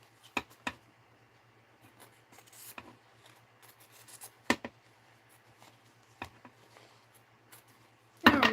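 Scissors trimming uneven edges of fabric washi tape in an art journal, a few sparse, quiet snips and paper rustles close by, with a louder rustle at the end.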